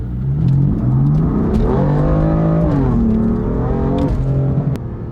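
A 2016 BMW M4 tuned to Stage 2 with over 600 horsepower accelerates hard, its engine loud and close with a rising, falling and rising again rev pitch through gear changes, alone without talk.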